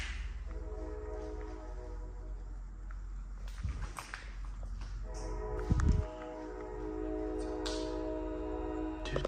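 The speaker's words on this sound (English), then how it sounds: "This train is making it to where I cannot hear what's going on around us" A train rumbles past near an abandoned building, a steady low mechanical roar with sustained tonal whine throughout and a couple of louder thumps or footfalls, fairly close and loud with no talk.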